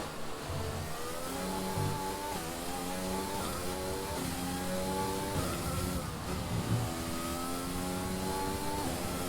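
An F1 race car engine in F1 2020 screams at high revs, its pitch climbing and dropping through gear changes in a steady, continuous whine with a faint rumble beneath.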